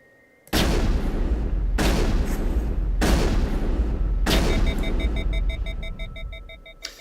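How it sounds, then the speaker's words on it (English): A gun firing sledgehammer rounds in Mass Effect: four heavy, booming shots spaced evenly about a second apart, followed by a fading electronic ringing tone. "That was 4 shots"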